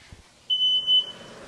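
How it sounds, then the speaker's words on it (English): A kitchen smoke alarm sounds a sharp, high electronic beep, one sustained tone with a brief repeat, set off while sea bass sears in a pan; no talking. "it's a fire alarm, Gail"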